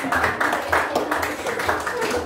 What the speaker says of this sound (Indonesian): Berikan tepuk tangan mereka